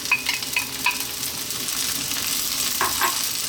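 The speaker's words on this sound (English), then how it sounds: "And let's just fry them around again for another 2 minutes." Frozen vegetables stir-fry over high heat for fried rice, giving a continuous close sizzle. Light scrapes and clinks from stirring break through it now and then, and no one speaks.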